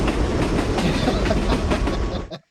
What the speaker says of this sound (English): The subway. The subway.